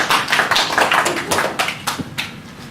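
Soft, quiet applause from a small audience inside a library: a sparse patter of claps close by, fairly even in rhythm and tapering off toward the end, with no talking.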